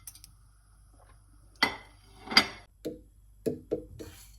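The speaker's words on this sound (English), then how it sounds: "add all our dry ingredients" Dry masala spices are tipped into a warm non-stick pan for chickpea curry: a soft pouring rustle, then a few sharp clinks of a spoon or bowl against the pan, close and fairly quiet.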